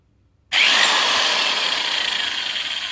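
A Dong Cheng electric impact wrench runs in reverse to loosen, starting abruptly after brief quiet into a loud, continuous high whirring hammer buzz that holds steady to the end.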